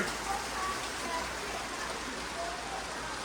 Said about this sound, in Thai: ฝนเริ่มจะตกแรงแล้วนะคะตอนนี้